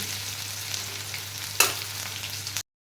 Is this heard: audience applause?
no